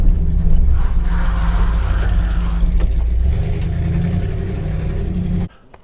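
A Ford F250 truck engine rumbles loud and close while driving, a steady low drone with shifting pitch that cuts off abruptly near the end.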